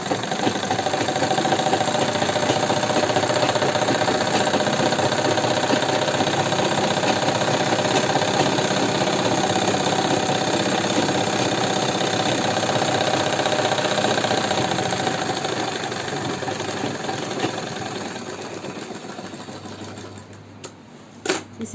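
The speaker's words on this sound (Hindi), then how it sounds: "फिर मशीन को घुमाएंगे, तो घुमाकर डबल सिलाई लगा लेंगे।" A sewing machine stitches a Patiala salwar in a fast, continuous mechanical rattle that holds steady, then slows and fades near the end before a few final clicks.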